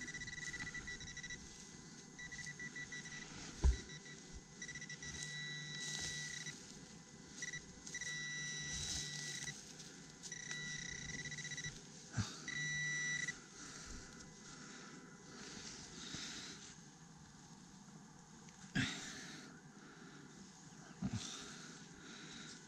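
A metal detector sweeping an outdoor site gives repeated tonal beeps and warbling signal tones over a low hum, with occasional sharp knocks from digging, moderately close.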